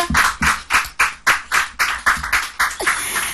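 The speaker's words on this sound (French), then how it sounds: "Très bonne réponse, on va applaudir." Studio audience on a French-language TV quiz show claps in a steady rhythmic beat, about a dozen loud, even claps close together with no talk over them.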